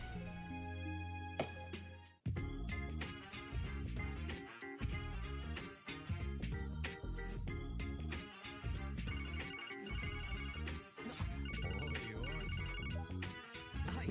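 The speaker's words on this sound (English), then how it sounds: "You have a phone call." Phone ringing in the video game Zero no Kiseki: a repeating electronic ringtone melody plays continuously and loudly, mixed with the game's music throughout.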